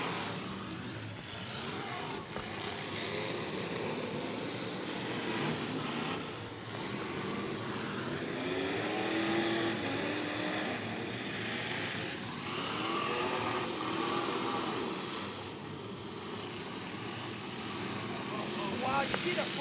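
Several demolition derby car engines rev hard at full throttle at a county fair, a loud continuous roar that rises and falls, with a voice talking over the noise.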